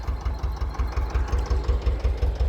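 Ursus tractor engine idling up close, a steady low rhythmic chugging with regular pulses throughout, no voices.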